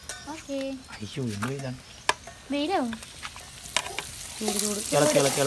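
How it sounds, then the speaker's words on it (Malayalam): Masala with cashews and raisins being stirred in a hot pan, a moderate sizzle and scraping under a voice speaking throughout. "എല്ലാം ഇതിലേക്ക് ഇട്ടിട്ട് നന്നായിട്ട് ഇളക്കണം"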